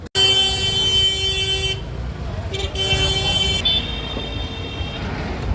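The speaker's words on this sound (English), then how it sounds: "you can hear a bunch of people honking at each other" Car horns honking on a crowded Old Delhi street, several sustained blasts overlapping and stopping and starting, close and loud over a steady wash of traffic and crowd noise.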